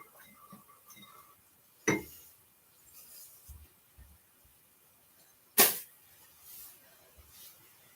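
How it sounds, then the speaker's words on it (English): A spoon stirring a creamy vegan Middle Eastern dish in a lidded pot gives two sharp, close metallic clinks against the pot, several seconds apart, over near silence. "I'm just gonna kind of stir it."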